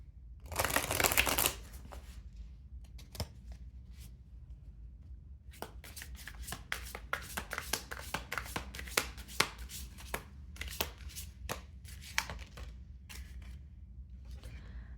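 Tarot cards riffle and shuffle: a dense, loud burst near the start, then a long run of crisp, rapid card flicks and snaps close up, with no talking.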